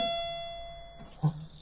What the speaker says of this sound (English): Then they hear the bell again